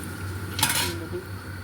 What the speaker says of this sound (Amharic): እርጎ የጨለፍኩበትን ማንኪያ አወጣዋለሁ።